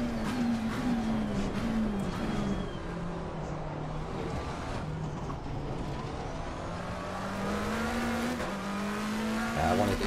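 A race car in Assetto Corsa Competizione laps Monza, its engine note droning steadily and shifting pitch through the gears for about ten seconds, close and continuous, with brief tyre noise near the end.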